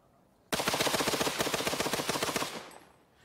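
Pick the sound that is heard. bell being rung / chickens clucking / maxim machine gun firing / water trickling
maxim machine gun firing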